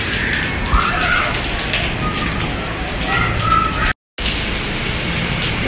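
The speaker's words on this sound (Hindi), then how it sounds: "बारिश हो रही है शदीद किस्म की, और बर्फ़ के गोले भी पड़ रहे हैं।" Heavy rain with hail pelting down in a street, a continuous loud wash of drops striking surfaces, briefly cutting out for a moment before resuming.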